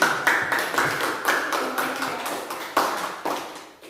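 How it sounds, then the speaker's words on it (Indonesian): A classroom of students gives a short round of applause, with sharp, scattered claps that come in quick bursts and fade over a few seconds, and no one speaking over it. "Oke, kita beri aplaus."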